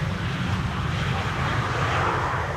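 A KLM Embraer 190 regional jet arriving at Schiphol from Manchester, heard as a steady distant engine roar with broadband rumble that swells slightly toward the end, with no talk.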